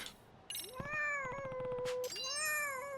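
A cat meows in the video game Lost Judgment, two drawn-out, close and clear meows with a brief break between them, with a faint game ambience underneath.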